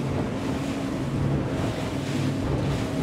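An Axopar 37 XC boat powered by a COX diesel outboard cruises near 30 knots, a dense steady engine drone blended with rushing water and heavy wind buffeting on the microphone.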